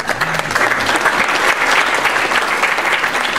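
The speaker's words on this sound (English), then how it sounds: "We're going to applaud you anyway." A dense wash of audience applause fills a gala hall at the Conklin Center Gala 2019, steady and loud from start to finish with no pauses.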